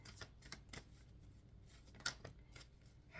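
Tarot cards shuffled by hand in a quiet room, with soft, uneven riffling clicks and taps spread irregularly over a few seconds, including one sharper snap near the middle.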